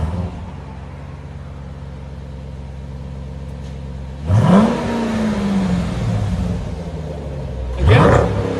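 A 2021 Dodge Durango SRT 392 with a 6.4L HEMI V8 on its stock exhaust idles with a deep rumble, then revs twice in sharp bursts that rise and fall, loud and close with no talk.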